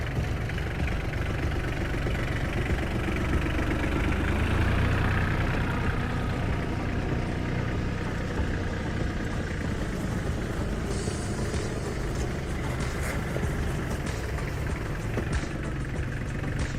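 A small diesel engine of a Kubota mini tractor idles steadily up close, a low rhythmic chugging rumble with faint knocking, running on without voices.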